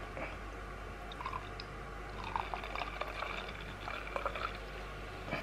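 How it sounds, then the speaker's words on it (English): Barley wine beer poured into a glass, a Vibrant Forest and Emperor's Brewery collaboration, gives a soft close gurgle and splash with light bubbling and fizz over about five seconds, with no talk. "I don't want to pour too much into the glass"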